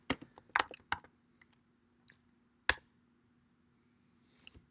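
A command is typed on a computer keyboard to start a development server: a handful of crisp, separate key clicks, some in quick pairs, then a longer gap before a final faint tap, close and quiet.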